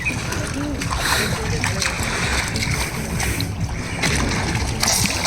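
Water splashes and sloshes continuously as people dunk while bathing in the Ganges, with voices talking over the churning water throughout.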